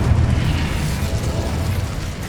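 A fire spell bursting in Hogwarts Legacy, a dense, loud, roaring blast that rumbles low and holds steady for the whole stretch with no voices over it.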